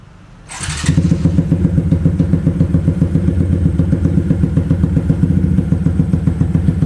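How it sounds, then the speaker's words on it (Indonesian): A Yamaha MX King motorcycle engine, bored to 217 cc with Uma Racing parts, starts with a quick whir and settles into a loud, rapid, lumpy idle with rhythmic thumping, steady and close. "sekarang kita cek sound si motor ini ya"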